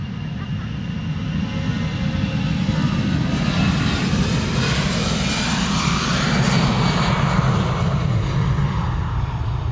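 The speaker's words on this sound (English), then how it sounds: "Delta A330 Neo." Delta Airbus A330neo jet engines roar steadily at Schiphol Airport, a broad continuous rumble that swells slightly mid-way, heard from a distance with faint voices in the background.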